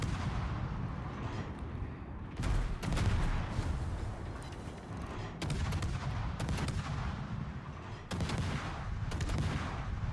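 Marceau gunboat cannons firing in a naval battle game, repeated sharp booming salvos at irregular intervals over a dense rumbling background of engine and sea noise.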